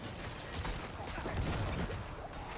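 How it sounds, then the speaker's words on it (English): Bone Storm explosion effects in Diablo 4 form a dense, continuous crackling and rumbling barrage, faint and steady, with no speech. "It's definitely a nicer explosion."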